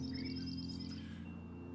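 Birds in the video game Before Your Eyes chirp in quick, faint repeated calls over a soft steady musical hum, with no talking.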